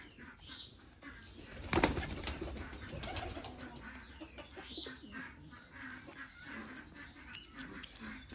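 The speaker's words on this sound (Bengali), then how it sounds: "দেখুন পায়রাটা হাতে খেতে চলে এসছে।" A pigeon in a village setting gives soft, faint cooing and a brief burst of wing flapping near the start, with quiet outdoor background.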